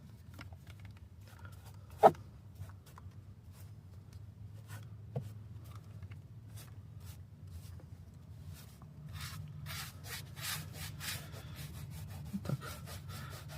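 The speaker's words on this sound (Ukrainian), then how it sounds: "таким методом, так би мовити, втираємо в пластик" Sonax black plastic restorer is rubbed into car plastic trim in soft, quiet, repeated wiping and scrubbing strokes that grow busier toward the end, with one sharp knock early on.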